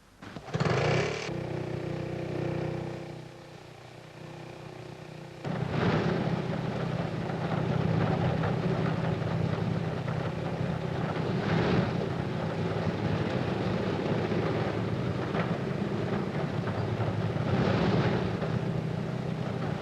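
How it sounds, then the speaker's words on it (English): A Handley Page airliner's main engines are started in turn by a small auxiliary motor: a brief whirring, then a sudden step up into a sustained, loud, rough engine roar. "Tiny auxiliary motor starts each main engine in turn."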